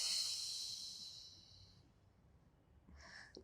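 A long breathy exhale during a relaxing stretching exercise fades out over about two seconds, followed after a pause by a shorter, softer breath, close and quiet.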